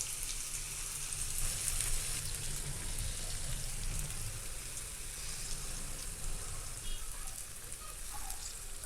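Batter for a quick breakfast snack is poured into a hot pan, making a soft, steady, hissing sizzle that stays even and fairly quiet from start to finish.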